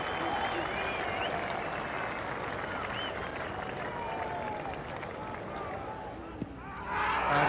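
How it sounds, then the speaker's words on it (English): A large cricket crowd at an England versus Australia Test match in 1989 keeps up a continuous roar and applause for Ian Botham, swelling louder near the end, with a commentator talking over it. "And now there's a huge cheer"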